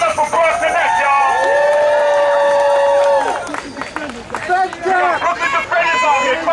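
At an outdoor rally to close Rikers Island, a crowd claps and cheers for Broad Connect, with loud shouting voices and whoops rising over a busy, noisy backdrop of clapping and crowd babble.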